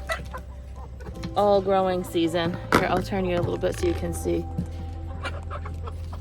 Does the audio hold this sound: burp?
no